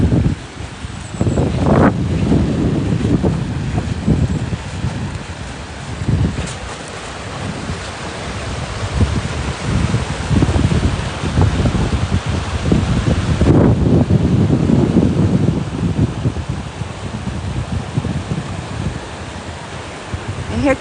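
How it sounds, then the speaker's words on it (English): Strong wind during an outdoor morning nature walk, a loud sustained rush with heavy low-frequency microphone buffeting that surges and eases in gusts, and a voice talking at times over it. "Here comes the wind."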